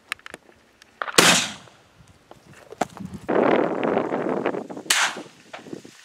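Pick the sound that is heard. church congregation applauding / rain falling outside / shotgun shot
shotgun shot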